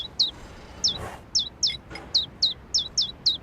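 Hungry baby birds in the video game A New Beginning give about ten short, bright chirps in a steady rhythm, loud and close, with a brief rustle or thump in the middle.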